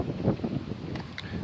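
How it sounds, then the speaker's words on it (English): Gusty wind rumbling across a microphone outdoors, a soft low roar that swells and eases over a second and a half, with no clear speech. "it's kind of windy out here"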